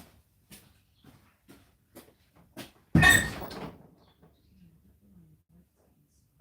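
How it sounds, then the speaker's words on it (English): A door swings open with one loud, close clunk and rattle, preceded by a few soft light taps and followed by quiet. "Let's open the door."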